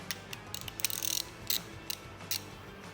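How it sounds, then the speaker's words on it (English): Ratchet handle for 1/2 inch drive bits clicking: sparse, quiet, crisp clicks in irregular bursts, a short rattling run and then single ticks, close up with no talk. "These 1/2 inch driven bits need a driver like this ratchet."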